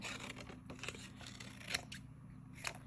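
Scissors snip through paper around a stamp template, making a quick run of soft, close cutting strokes and crisp little clips in a quiet room.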